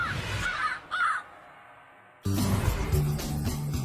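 Crows caw in a few harsh, rasping calls near the start, followed by a quiet pause and then a louder, busier burst of cawing and outdoor noise.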